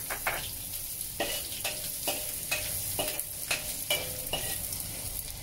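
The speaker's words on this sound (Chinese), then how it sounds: "我哋就落啲乾葱落去起鍋。" Chopped shallots stir-frying in a hot wok beside pork belly, a steady sizzle broken by repeated scraping strokes of the spatula roughly every half second, close and fairly quiet, with no talking.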